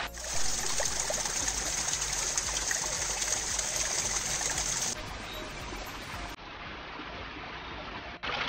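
Steady rushing water near a waterfall on a forest trek in Munnar, a loud continuous broadband flow filling the whole clip with no voices over it.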